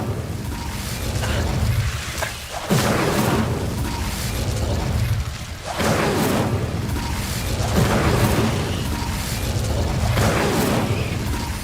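Repeated Incendio fire spells in Hogwarts Legacy, heard as loud whooshing bursts and booms at a roughly steady rhythm, each flaring and fading over a constant roar, with no talking.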